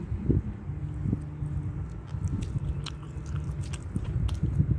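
Close, steady chewing and biting of rice eaten with crab paste, soft irregular mastication sounds running throughout with small crunchy clicks, no talking.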